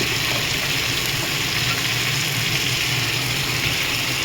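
Spices including turmeric, chili, coriander and cumin powder fry in a pan for a mutton dish, making a dense, steady sizzle and hiss with soft stirring scrapes underneath.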